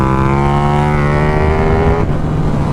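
A KTM 1390 Super Duke R motorcycle fitted with an aftermarket exhaust holds a loud, steady, throaty engine drone close by, then the pitch shifts briefly before settling again.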